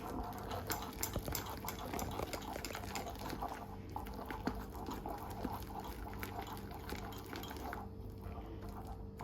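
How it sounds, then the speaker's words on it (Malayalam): A whisk beats medu vada batter in a bowl. Rapid, fairly quiet metallic clinks and wet sloshing repeat steadily throughout, close up, with no talk. "ഞാനിവിടെ ഒരു വിസ്ക് വെച്ചിട്ടാണ് അടിക്കുന്നത്."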